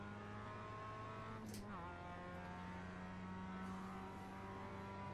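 Mazda MX-5 Cup race car engine in iRacing at Laguna Seca, a steady droning hum holding near-constant revs with a brief whoosh of passing air midway, loud and continuous throughout.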